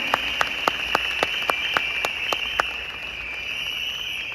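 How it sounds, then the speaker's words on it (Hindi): Steady applause from a seated seminar audience at a birthday celebration, with sharp individual claps standing out over a dense, continuous patter that holds at an even level throughout. "आप ताली बजा सकते हैं"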